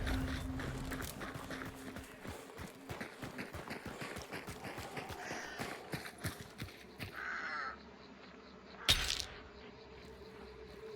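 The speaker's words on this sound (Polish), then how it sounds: "Spróbuję przejść pod tymi krukami" Crows caw in a game soundscape amid rapid tapping footsteps, with a sharp louder hit near the end.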